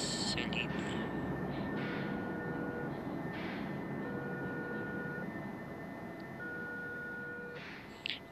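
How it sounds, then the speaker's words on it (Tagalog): A train passes in the Bus Simulator Indonesia driving game, its steady rumble and long horn-like tones sustained across the scene, heard over continuous bus engine noise while someone talks. "May train pa dito."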